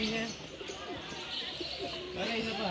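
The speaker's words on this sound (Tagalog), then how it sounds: "Maraming klaseng mga ibon ang nandito." Pigeons and doves coo alongside scattered chirps from mixed birds at Pugad Mini Zoo in Pugo, La Union, Philippines, a busy layered chorus heard at moderate distance with faint people's voices underneath.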